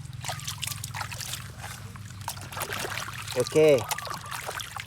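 Water pours and trickles steadily into a container holding toy vehicles, a continuous splashy wash with a brief spoken word near the end.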